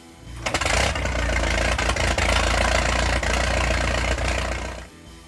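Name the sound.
four-cylinder tractor engine running, Allis-Chalmers WC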